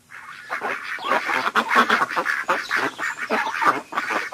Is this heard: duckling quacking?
yes